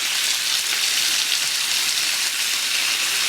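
Bacon sizzles and crackles on a hot griddle, a loud, steady hiss with fine popping throughout and no talking.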